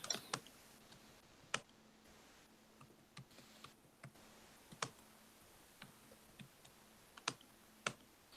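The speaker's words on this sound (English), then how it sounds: "I hear you typing away." Quiet keyboard typing, irregular bursts of soft key clicks with a few sharper taps, over a faint steady hum.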